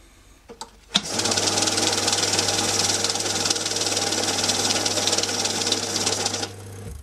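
A MC2200UV banknote counting machine whirs steadily for about five and a half seconds with a rapid fluttering of banknotes, starting after a couple of clicks and stopping abruptly.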